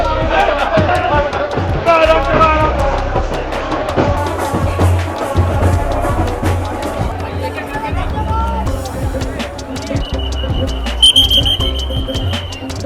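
A busy crowd packs an Indian railway platform at Baroda as a new MEMU train departs: dense close chatter and footsteps under loud talk, with a thin electronic beep near the end.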